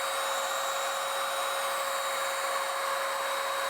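A cordless paint sprayer fitted with a larger nozzle sprays paint over a stained surface, a steady loud airy hiss with a constant whine, unbroken throughout.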